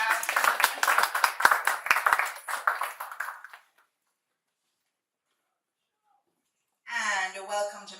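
An audience at a panel event on electric vehicle insurance and safety claps in a quick run of hand claps that fades out after a few seconds. Silence follows, then a person starts talking.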